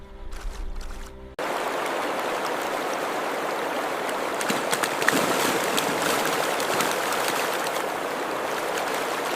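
A wilderness river where a grizzly hunts salmon in the shallows rushes in a steady, loud, broadband wash after a short burst of music at the start, continuous and unbroken with no voices.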